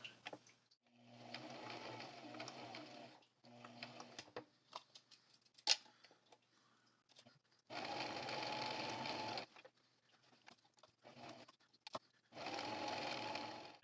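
Home sewing machine stitching down the sides of a drawstring project bag, several separate bursts of steady whirring, short and longer runs with quiet pauses and small clicks of handling between them.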